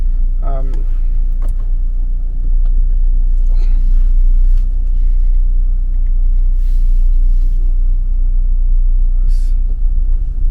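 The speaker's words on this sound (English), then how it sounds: "you find me behind the wheel of the Ford Edge, and we're going to take it for a drive." A 2023 Ford Edge SEL AWD with the 2.0L EcoBoost drives along, producing a steady low road rumble and engine hum throughout, with faint interior clicks and brief noises above it.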